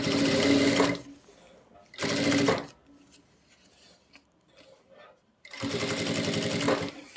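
A sewing machine runs in three bursts, stitching a fold in a deep-neck ladies' garment, with someone talking quietly in the pauses between runs.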